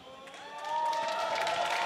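An esports arena crowd at an EU LCS League of Legends match between Team Vitality and Team Roccat cheers and applauds, the noise swelling after the first moment and holding loud, with voices mixed into the roar.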